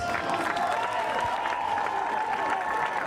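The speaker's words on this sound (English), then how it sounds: "let's give it a round of applause for both teams" Audience at a high school baseball game applauding both teams after seven innings, a steady wash of clapping with some crowd cheering, loud and continuous throughout.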